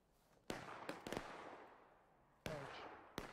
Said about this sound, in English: Where'd those shots come from?